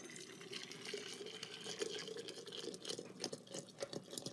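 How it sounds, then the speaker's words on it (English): Hot water pours into a cup for tea from a Japanese MRE, a steady faint splashing trickle with brief drips and gurgles throughout, close by and without talk. "we're going to pour a little hot water in"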